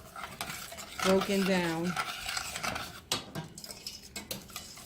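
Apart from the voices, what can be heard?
stirring mumbo sauce in a pot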